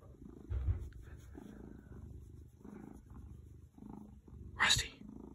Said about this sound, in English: It's Rusty the Wonder Cat.